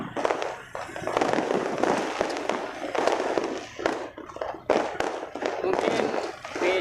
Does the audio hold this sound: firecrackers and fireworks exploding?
yes